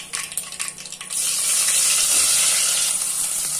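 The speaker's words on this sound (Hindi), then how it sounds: "ये थोड़ा हल्का फ्राई कर लेंगे।" Onion with mustard seeds and curry leaves hitting hot oil in a pan for corn curry, a few crackles then a loud, steady sizzling hiss close up.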